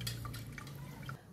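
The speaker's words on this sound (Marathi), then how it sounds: "भाजी चाळणीत नितरून घ्यायचं, पाणी व्यवस्थित नितरून घ्यायचं।" Water drains from boiled drumstick vegetable set in a kitchen sieve, a faint, soft patter of drips and trickling over a low background hum.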